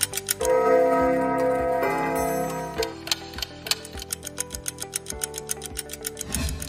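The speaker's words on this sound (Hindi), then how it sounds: "तमाम कदीम घड़ियां चलती भी हैं, इसे टिक टिक की आवाज में क्या सुकून मिलता है" Antique clocks in a clock collection hall tick steadily, a regular close rhythm that becomes prominent in the second half, with chiming, music-box-like tones and bell notes layered over it early on.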